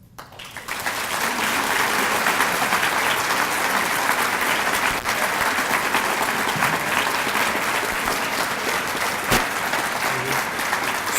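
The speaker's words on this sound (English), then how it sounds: "Stop applauding, or then we won't be able to do questions" A large breakfast audience breaks into sustained applause at the end of a policy talk, swelling quickly and holding as a loud, even roar of clapping.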